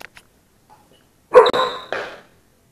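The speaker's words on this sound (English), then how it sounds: "Sorry about the barking." A dog barks at home, giving a loud close pair of sharp barks after a few faint earlier sounds, then quiet.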